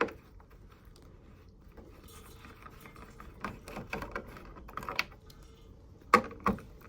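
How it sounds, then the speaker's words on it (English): Faint, sparse clicks and scrapes as a driver backs out the T25 Torx screws at the rear of the tank cover on a BMW R1250 GSA motorcycle, with a few louder ticks near the end over a quiet background. "We're going to start by removing the two T25 Torx screws from the rear of the tank"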